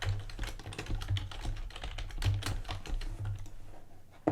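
Rapid keystrokes clatter on a computer keyboard during app coding work, a steady run of close, crisp clicks with small pauses and a slightly louder final tap.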